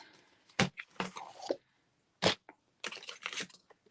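Scissors cut through rainbow glimmer paper up close, producing a few short, crisp snipping and crinkling bursts separated by quiet gaps.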